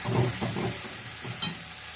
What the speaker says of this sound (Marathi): याला तेल सुटेपर्यंत चांगलं परतून घेतलं.